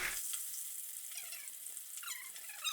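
Fish slices fry in oil, a soft steady hiss and faint crackle, fairly quiet and alone with no talking.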